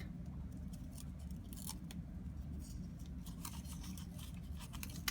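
Scrap paper being folded and creased by hand into a star, a steady close rustling and crinkling with sharper crisp snaps, no talking.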